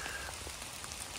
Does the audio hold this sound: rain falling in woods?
yes